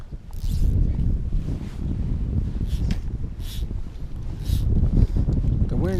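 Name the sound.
wind blowing at a lake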